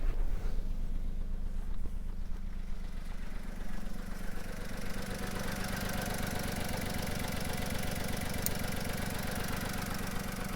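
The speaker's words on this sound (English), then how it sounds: "I'll probably need to cycle the key to get it to stop misfiring." A car engine idles roughly and misfires after a pressure pulse sensor is reconnected, running as a steady uneven low rumble with knocking pulses that continues close and loud throughout, no talking.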